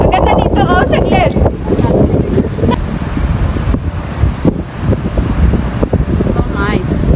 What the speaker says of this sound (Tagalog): may hangin eh